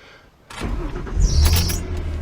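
A Ford Explorer engine cranks and catches after fuel filter replacement, rising from quiet into a steady low rumble with a brief higher whine, close by.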